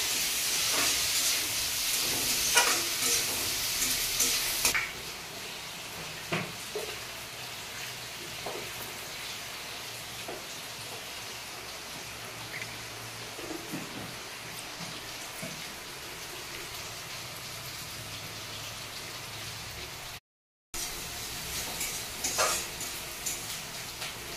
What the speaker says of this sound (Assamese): ভালকৈ লৰাই ভাজি লওঁ।